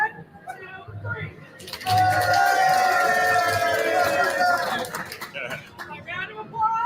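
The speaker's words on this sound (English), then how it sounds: "1, the round of applause. 1, 2, 3." A crowd at a treasure-hunting convention claps and cheers after a counted cue, loud and lively under an announcer's voice.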